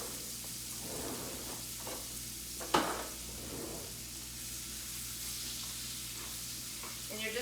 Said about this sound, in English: we're going to go ahead and put our onions in